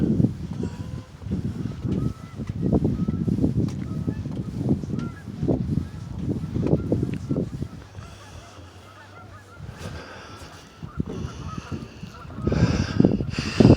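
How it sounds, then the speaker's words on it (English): A flock of geese honks continuously, loud, overlapping calls close by, easing briefly before swelling again. "I hope those geese don't cackle all night."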